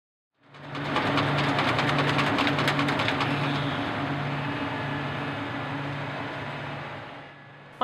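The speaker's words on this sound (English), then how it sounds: "Mike Ripplemeyer is driving a harvest machine through his vineyard in St. James" A harvest machine drives through a vineyard in St. James, Missouri, its engine droning loudly and steadily with a rattling mechanical clatter, slowly easing off toward the end.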